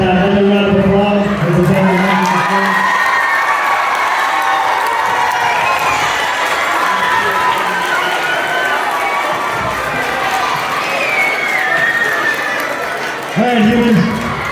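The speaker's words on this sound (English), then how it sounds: "All right, one more time, another round of applause." School crowd at an assembly cheering and applauding loudly and continuously, a dense wash of shouts and claps, with a brief voice near the end.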